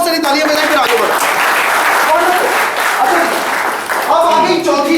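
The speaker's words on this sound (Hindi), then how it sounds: "अपने लिए पहले बहुत सारी तालियां बजाएं" A training session audience claps for themselves, a steady wash of applause under a trainer's voice talking over it throughout.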